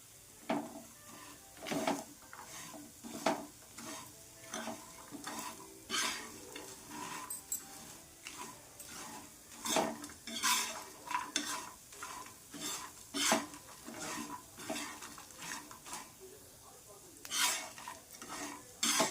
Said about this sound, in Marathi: दोन ते तीन चमचे तीळही छानपैकी भाजणार